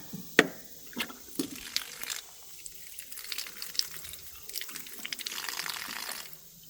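Water trickling and splashing from a leaking fitting on an IBC tote during its first fill, an irregular, fairly quiet run of drips and splashes with a few sharp knocks near the start.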